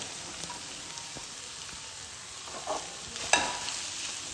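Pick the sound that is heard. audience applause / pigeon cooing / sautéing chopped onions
sautéing chopped onions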